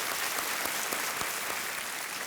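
Studio audience applauding on a Hindi television quiz show set, a steady dense wash of clapping that holds loud and even throughout, with no voices over it.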